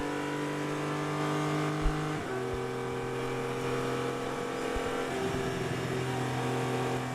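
A race car at the Atlanta SpeedTour road-racing event passes with a steady engine drone, its pitch dropping sharply partway through as it goes by, followed by continued engine noise at moderate distance.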